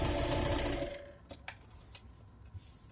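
A sewing machine stitching a quilt block runs in a steady, close whirring rattle, then stops, leaving a few soft clicks and taps of handling.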